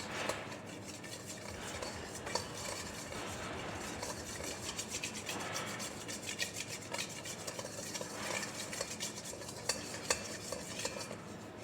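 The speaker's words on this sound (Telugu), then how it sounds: "ఇప్పుడైతే ఇదంతా మిక్స్ చేసుకుందాము." Ingredients being mixed with oil in a bowl or pan, producing a continuous close scraping and rubbing with light clinks of a utensil, no speech, fairly quiet throughout.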